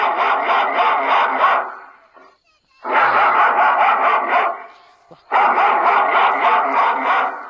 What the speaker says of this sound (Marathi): कुत्रा मोठमोठ्याने भुकताय